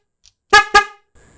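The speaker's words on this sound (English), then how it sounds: "you'll see that we obviously honk the horn" A car horn wired to an off-road RGB switch panel sounds twice in quick succession, two short loud blasts close to the listener with a faint click before and after.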